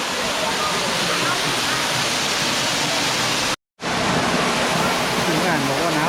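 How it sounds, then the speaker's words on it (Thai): Saengchan waterfall, also called Long Ru, in Khong Chiam, Thailand, roars in a steady, dense wash of falling water that fills the scene, cut by a brief dropout partway through before the rush resumes. "น้ำตกแสงจันทร์หรือน้ำตกลงรูครับพี่น้อง"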